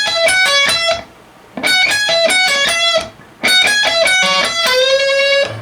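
Electric guitar plays a solo in three quick bursts of rapid notes separated by short gaps, ending on a long, sustained bent note, loud and up close.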